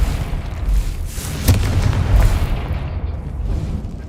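A Confringo blasting spell going off in Hogwarts Legacy, a heavy booming explosion with a sharp burst and rumbling low tail, loud and near, no speech.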